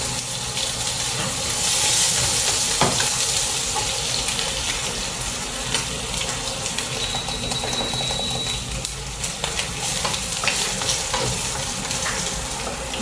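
Garlic sizzles in hot oil in a pan, a loud, steady frying hiss that fills the whole stretch, with occasional scraping and clinks from stirring.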